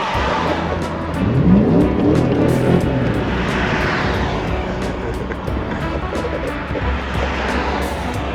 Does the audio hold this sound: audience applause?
no